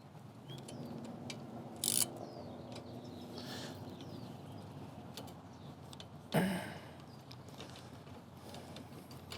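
A part on an electric tadpole trike being loosened during assembly, with quiet mechanical clicks and ratcheting, plus two sharper metallic clanks, close by in a calm indoor space with no talking.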